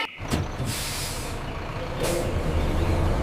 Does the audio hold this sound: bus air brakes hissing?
yes